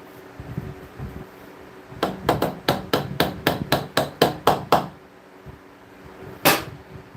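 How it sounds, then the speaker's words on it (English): A hammer striking repeatedly at close range, about eleven sharp blows in a quick, even rhythm, then a pause and one final strike, over a faint background hum. "Hammer."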